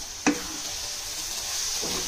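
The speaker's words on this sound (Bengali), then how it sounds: "এখন আরো একটু ভালোভাবে ভাজে নিব।" Egg and vegetables for fried rice sizzle steadily in hot oil in a pan, with one sharp spatula knock near the start and a soft stirring scrape toward the end.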